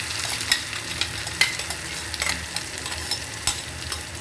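Onion-garlic paste frying in hot oil for a home-style fish curry, a steady close sizzle broken by sharp stirring scrapes and clinks of a spoon in the pan.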